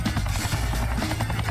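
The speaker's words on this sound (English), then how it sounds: "There's an enemy chopper on its way." An enemy helicopter approaching in the video game XIII: a loud, steady rotor drone with rapid thudding blade pulses, continuous throughout and with no voices.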